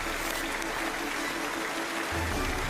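A studio audience applauding as two physics researchers are welcomed onto a talk-show stage, dense steady clapping throughout, with a low tonal hum underneath.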